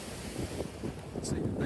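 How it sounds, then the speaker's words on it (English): Sea waves wash onto the beach at Hayling Island on a cold day, a steady broad rush of surf mixed with gusty wind noise on the microphone. "The waves."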